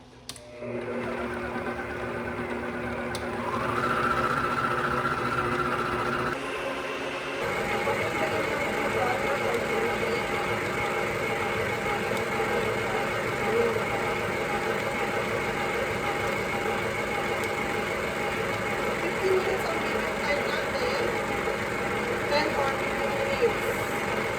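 An electric stand mixer motor whirs continuously, stepping up in speed early on and then holding a steady, loud drone while kneading bread dough.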